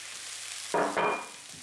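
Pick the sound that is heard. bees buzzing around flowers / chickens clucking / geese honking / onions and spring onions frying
onions and spring onions frying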